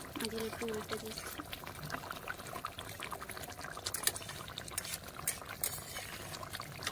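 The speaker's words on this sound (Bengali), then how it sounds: "দেখুন মাছগুলো ফুটছে, আর একটু ফুটে গেলে নামিয়ে নেবো।" Pabda fish curry with mustard and poppy seed paste simmers in a pan, giving a faint, busy bubbling and crackling that runs steadily with small spattering pops.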